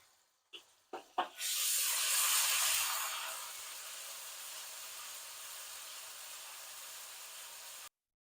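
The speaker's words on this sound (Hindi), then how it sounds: "1 बड़ा वाला चम्मच भर के लहसुन अदरक डाल रही हूँ। इसको भी थोड़ा सा ब्राउन करेंगे।" Garlic ginger paste frying in a pot for beef choliya pulao: a few sharp utensil clacks, then a loud sudden sizzling hiss that gradually settles into a steady, softer frying hiss until it cuts off.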